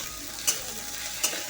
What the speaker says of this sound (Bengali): ভালো করে মশলাটাকে কষিয়ে নিতে হবে